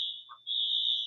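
A smoke alarm shrieks in a high, piercing tone with a brief dip partway through, heard faintly in the background with no talking.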